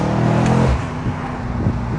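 Mercedes C63 S AMG in second gear at about 30 mph, its engine surging loud and close with a brief burst of throttle, then settling into a steady rumble.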